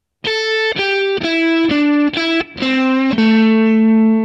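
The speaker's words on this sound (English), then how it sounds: "Really nice bluesy minor pentatonic lick." A distorted electric guitar plays a bluesy minor pentatonic lick of about seven picked notes stepping downward, ending on a ringing, sustained low note.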